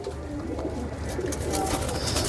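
A Teddy pigeon, a pure Kamagar Teddy bird, gives low, soft cooing against a steady, noisy background, fairly close and continuous for the short stretch.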